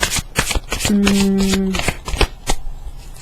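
Tarot cards being shuffled by hand in a series of quick riffling flicks and snaps, close and fairly loud, with a brief tonal hum partway through and no speech over it.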